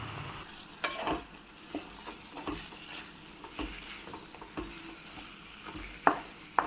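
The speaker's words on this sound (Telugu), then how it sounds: "ఇలా మీడియం ఫ్లేమ్ మీద 3 మినిట్స్ ఫ్రై చేసుకోవాలి." Onion and chopped tomato pieces frying in oil over medium flame for an egg curry, with a continuous crackling sizzle broken by repeated scraping stir strokes close by and no voices.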